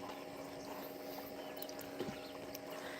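A swimming pool pump runs steadily in the background, a constant low hum and watery whir that stays level throughout, with faint splashes from a dog swimming in the pool.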